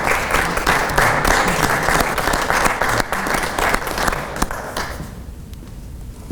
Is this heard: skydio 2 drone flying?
no